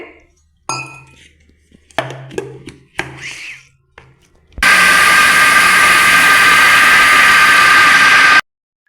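A few clinks and knocks, then a mixer grinder roars loudly and continuously for several seconds grinding thick pearl millet batter with chillies, before stopping abruptly.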